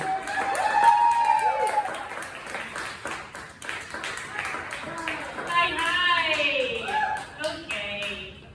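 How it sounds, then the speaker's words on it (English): A comedy club crowd at a distillery claps for a comedian taking the stage, a crisp patter of hands with whoops and voices rising over it, swelling and thinning across the stretch. "You gotta clap a lot."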